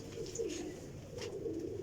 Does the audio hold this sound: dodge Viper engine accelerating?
no